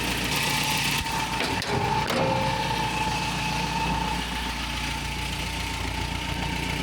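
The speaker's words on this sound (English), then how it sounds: "Don't love that exhaust leak" A 1988 Toyota 4Runner with a 22RE engine idles steadily close by, its low rumble carrying a ticking, puffing exhaust leak, with a couple of brief clunks early on and no talk.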